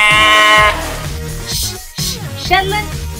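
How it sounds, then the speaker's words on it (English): A Shetland sheep gives one loud, close bleat, followed by quieter mixed sounds. "S is for Shetland sheep."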